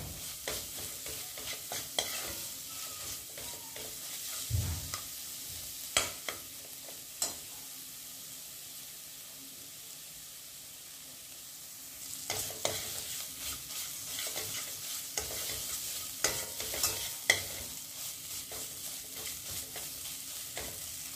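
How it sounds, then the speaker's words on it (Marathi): Spice masala roasting in a pan gives a faint, low sizzle broken by irregular scraping stirs and taps of a spatula, with a quieter lull in the middle. "मसाला भाजून घ्या म्हणजे खमंग मसाला."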